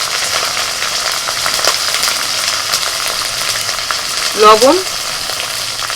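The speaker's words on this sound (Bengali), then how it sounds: "মশলাটা ভালো করে কষে নিয়েছি" A spice paste of dried red chilli, ground cumin, ginger paste and turmeric fries hard in a pan, a loud continuous sizzle with brief stirring scrapes near the end, and one short spoken word.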